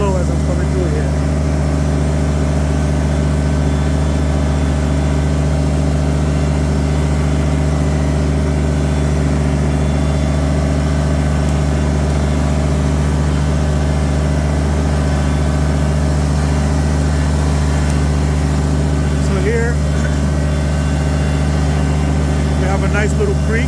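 A Kubota tractor engine runs at a low, steady drone while creeping slowly over soft forest ground near a creek, a continuous close rumble with little change in pitch throughout.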